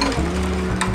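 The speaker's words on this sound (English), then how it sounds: "Then we stir it. Eggs and sugar." Eggs and sugar being stirred together in a bowl for a dessert, a steady close scraping and swishing that runs continuously through the moment with no talking.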